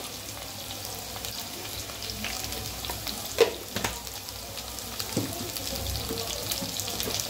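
Potatoes frying in a pan, a soft steady sizzle with occasional stirring clinks and scrapes, close by and fairly quiet.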